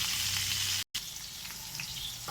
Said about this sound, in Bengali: পটলটা আমার কিছুটা ভাজা হয়ে এসছে